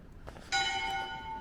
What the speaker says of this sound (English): And I cue the bells.